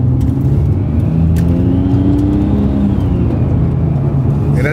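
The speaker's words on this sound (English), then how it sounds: "The turbo whistles are crazy in this car, you guys." A Nissan GT-R accelerating with turbo whistle over a steady, loud engine drone from inside the car, sustained for the whole stretch with rising tonal whine and faint background chatter.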